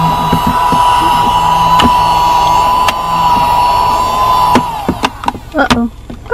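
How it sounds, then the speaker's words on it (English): A small handheld cordless car vacuum cleaner inside a 2021 Ford Escape runs with a steady motor whine for about four and a half seconds, then cuts out, followed by a few scattered clicks and handling noises. "Let's vacuum this up."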